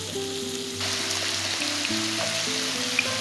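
Potato pieces fry in hot oil in a pan with a steady soft sizzle, while quiet melodic background music plays over it.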